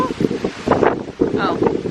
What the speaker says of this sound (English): It's windy. I'm not going to be able to talk